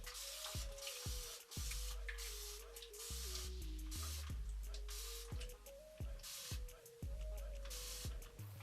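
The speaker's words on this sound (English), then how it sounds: "So I have my little spray bottle with water and I'm just gonna mist" A small spray bottle squirts water onto 4c hair as a burst of close, hissing spritzes, several in a row at an uneven pace over a low background hum.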